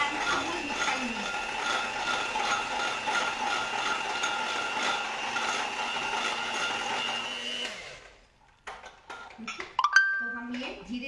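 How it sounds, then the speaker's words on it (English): Amul cream and Amul Mithai Mate being whisked in a kitchen, a steady whirring mechanical drone for about eight seconds that then stops, followed by a few light clinks and taps. "we'll also start whisking the Amul cream and Amul Mithai meat"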